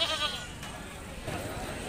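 Barbari goats at a goat market, with faint bleats mixed into crowd murmur and voices.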